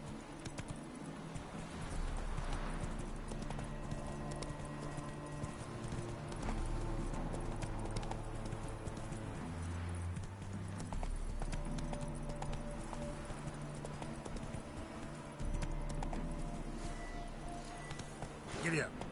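Roach, the horse in a PS4 game, gallops with steady, rapid hoofbeats that run throughout, mixed under a droning music bed and occasional talk.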